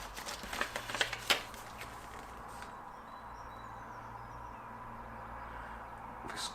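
Paper rustling and crinkling as a fold-out booklet from an unboxed music item is opened out, a burst of crisp flaps near the start and then quiet handling, no voices.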